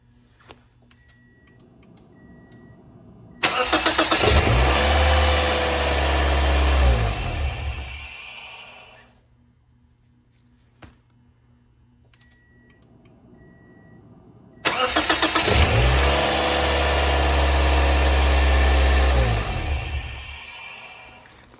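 A Toyota Echo with a newly replaced starter is started twice by remote start. Each time the starter cranks and the engine catches with a loud surge, then settles to a steady idle that fades. The two starts come about eleven seconds apart.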